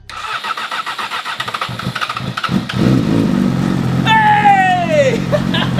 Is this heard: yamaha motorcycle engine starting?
yes